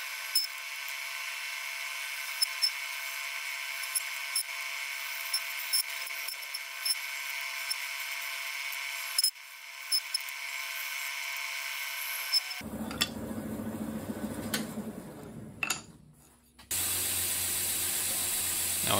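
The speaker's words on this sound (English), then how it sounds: "Now I'm gonna saw this first real quick and then we'll grind it" A power saw cuts a trim cap for a wrought iron san mai chef knife handle, a steady high whine that shifts into a harsher, louder grinding buzz near the end, with no talking.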